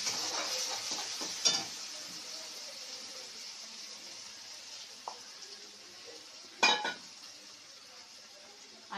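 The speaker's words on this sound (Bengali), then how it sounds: "এবার লাউয়ের খোসার পেস্টটা দিয়ে দিলাম" Bottle gourd peel paste frying in a pan, with a faint steady sizzle, a few soft stirring scrapes and two sharper clatters of utensil against the pan.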